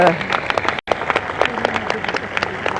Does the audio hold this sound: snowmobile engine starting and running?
no